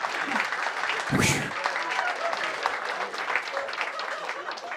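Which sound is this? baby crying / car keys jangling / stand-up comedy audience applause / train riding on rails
stand-up comedy audience applause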